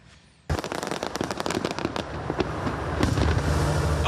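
Fireworks burst over a celebration in Egypt, a sudden loud start followed by dense rapid crackling and popping that builds into a continuous roar of overlapping explosions.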